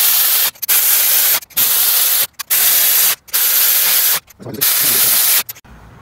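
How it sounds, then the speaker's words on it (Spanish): An air impact gun fires repeated loud hissing bursts with short gaps while driving cylinder head bolts on a 1996–2000 Honda Civic EX during a head gasket job. "esa pistola realmente no soca bastante, pero me va a ayudar a meter los tornillos"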